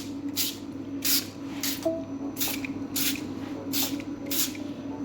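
A hand-pump oil sprayer mists thinned egg wash over pastry in a French bakery, giving about seven short, soft hissing bursts at an even rhythm, close up over a low background hum.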